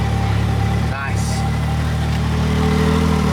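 The engine of a Can-Am X3 side-by-side idles steadily after its intake has been reinstalled, a loud close rumble that continues throughout while people talk over it.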